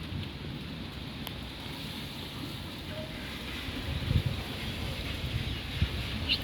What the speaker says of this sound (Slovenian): nekoliko grmi, rahlo dežuje